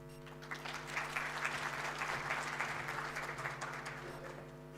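Audience at a national ICT summit applauding, a sustained wash of clapping from many hands, steady and somewhat distant over a faint hum.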